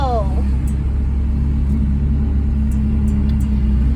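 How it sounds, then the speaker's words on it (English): A Ferrari 360 Challenge Stradale V8 runs at a steady, loud, throaty rumble throughout, with a brief rising rev whine at the start and faint background voices. "this is the best sounding Ferrari you can get. V8."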